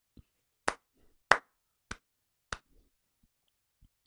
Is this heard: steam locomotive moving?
no